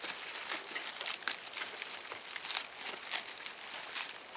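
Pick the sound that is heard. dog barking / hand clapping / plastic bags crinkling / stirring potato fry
plastic bags crinkling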